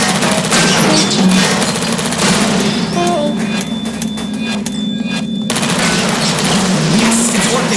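Automated turrets fire in Portal Stories: Mel, a dense, continuous rattle of rapid shots running loud throughout with game music and effects layered underneath.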